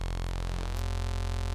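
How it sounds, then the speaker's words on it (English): Harsh bit-crush distortion from FL Studio's Distructor plugin, a dense, buzzy wall of gritty digital noise with steady stacked tones that shift abruptly partway through, loud and continuous with no pauses. "That's bit crush."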